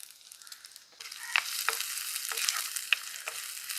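Green chilies and shallots sauté in a pan for a fish curry, a steady close sizzle with soft stirring scrapes and a few sharper pops partway through.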